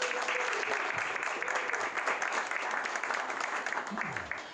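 A live audience applauds at a Canon panel event at the Sundance festival, a dense, steady wash of clapping that holds strong for several seconds before easing slightly at the end.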